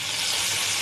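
Chopped green tomatoes fry in a little oil in a pan, giving a brief, steady, close hiss of sizzling.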